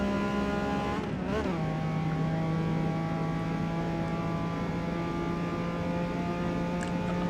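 A Nissan GT-R in the racing game Forza Motorsport 8 accelerates, its engine rising in a brief rev before settling into a sustained, loud droning tone throughout.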